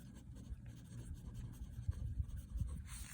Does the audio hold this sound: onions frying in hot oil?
no